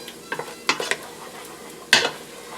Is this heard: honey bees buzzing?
no